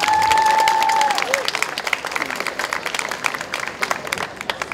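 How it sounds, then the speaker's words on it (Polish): An audience at a folk festival claps warmly for an honoured guest, a loud, dense burst of applause up close that thins into scattered claps, with a brief tone at the start. "Brawa."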